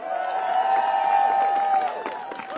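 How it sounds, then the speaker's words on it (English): Crowd at a veterans march on DC cheering and applauding, a steady wash of clapping and whoops with a sustained tonal voice-like layer, loud and continuous before easing slightly near the end. "Give her a round of applause."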